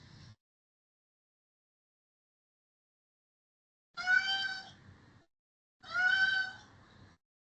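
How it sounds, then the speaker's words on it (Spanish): Pet kitten meowing indoors: two distinct, fairly clear meows a second or two apart, close to the microphone, surrounded by near silence. "tengo a mi gatita que quiere jugar"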